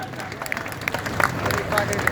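Loud applause from an audience at a formal gathering, a dense steady wash of clapping that swells slightly toward the end, with crowd murmur mixed in.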